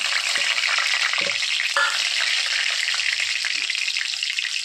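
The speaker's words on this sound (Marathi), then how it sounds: "आता टाकत आहोत आपण याच्यामध्ये जिरे तेल चांगलं कडक टाकले" Cumin seeds sizzle in hot oil for a brinjal curry, a loud steady hiss of frying with a few spoon clinks against the pan.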